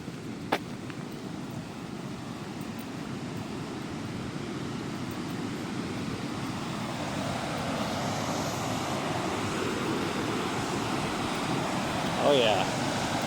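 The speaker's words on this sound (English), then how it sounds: "violent rushing water." A waterfall in Jasper National Park, Alberta, Canada gives a steady, broad roar of rushing water that swells slightly over time, continuous and dense with no break, with a brief faint chirp near the end.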